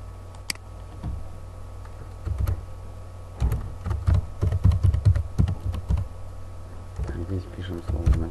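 Typing on a computer keyboard while entering text into a spreadsheet, with irregular bursts of close, clicky keystrokes over a steady low hum, busiest in the second half.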